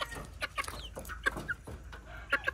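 Chickens housed in battery cages under banana trees cluck in short, scattered bursts, several birds calling near and at varying loudness over a low farm background, with no one talking.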